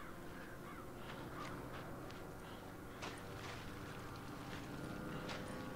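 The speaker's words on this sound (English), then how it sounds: "Don't tell me the crows are going to have to fight them too." Crows caw several times in the Resident Evil 5 video game, faint and somewhat distant, scattered over a soft background with light clattering steps.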